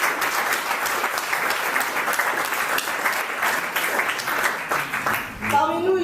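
An audience at a singing school's inauguration applauds two guest artists with loud, sustained clapping that fills the room, and a voice briefly rises over it near the end.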